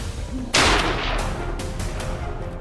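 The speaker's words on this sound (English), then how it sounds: "a bullet is fired instantly, and the boar collapses on the spot" A single loud rifle shot fired by a hunter at a wild boar in a forest, a sharp close blast around half a second in, followed by a lingering rumbling echo and steady background noise.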